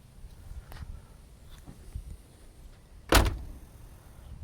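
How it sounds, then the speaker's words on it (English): A 1977 Pontiac Grand Prix SJ car door shuts with one solid, close thump, standing out from quiet outdoor background noise. "Door shuts nice."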